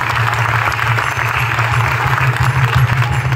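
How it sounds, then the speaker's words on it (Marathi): Sustained applause from a crowd at a Marathi stage performance, cheering the performers and artists, mixed with a steady low rumble of music or a PA beneath the clapping. "अमोलजी बेलसरे आणि सर्व कलाकारांसाठी जोरात टाळ्या होऊ द्या"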